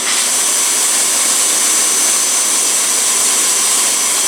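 A PM727 milling machine drills with a 5/16 inch bit, giving a steady, loud, dense whirring hiss that stays even and unbroken throughout, with no voices.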